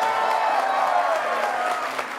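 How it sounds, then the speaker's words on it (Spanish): Applause from a Spanish-language television studio audience, a steady, close wash of clapping filling the whole moment, with a faint voice or tone running beneath it. "ustedes me van a apoyar con sus aplausos"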